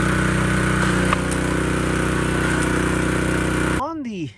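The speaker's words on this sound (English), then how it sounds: "we're going to drive this snowblower onto a set of blocks just to give us that added height" A Honda HS622 snowblower's small engine runs steadily at close range, a dense even drone, then cuts off near the end with a falling whine as it winds down.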